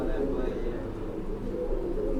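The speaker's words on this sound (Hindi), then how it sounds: "ये देखिए भाई हरे कबूतर, ये टटीरा कबूतर" Green pigeons and Tatira pigeons in a loft, soft low cooing running steadily under someone talking nearby.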